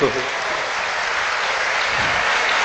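Steady, loud applause from a crowd, sustained clapping filling the whole stretch without a break.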